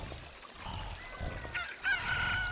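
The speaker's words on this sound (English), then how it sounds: "A chicken hatched from the egg you were incubating." A chicken crows in Ocarina of Time right after hatching from an incubated egg, a short game crow rising in pitch near the end over a steady background bed.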